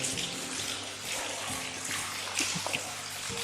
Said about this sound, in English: So you've got another pipe sticking down. Water running through it.